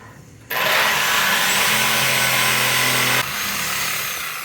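A power saw blade grinds through a weld on a Jeep, a loud steady cutting roar that starts abruptly, holds for several seconds, then drops to a lower running whine.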